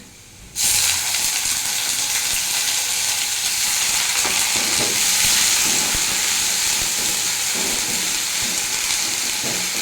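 Onion paste fries in a pan for a plantain-kofta curry, a loud, steady sizzle with crackling that begins abruptly and keeps up without a break, and there is no talk.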